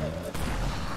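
A gunshot in an online shooter game, loud and close, a single boom that breaks a low steady hum at the start and is followed by more rumbling game sound.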